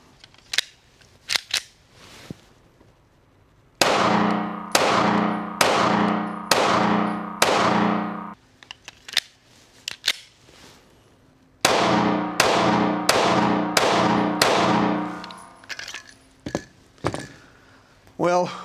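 A Mossberg MC1 pistol is fired in the dark on a range, with two strings of five loud, evenly spaced sharp shots, each ringing briefly, plus a few scattered earlier clicks and snaps.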